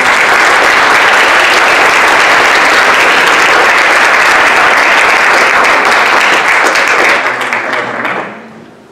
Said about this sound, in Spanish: yo invito al doctor Miguel Alcubierre que pase con un fuerte aplauso, por favor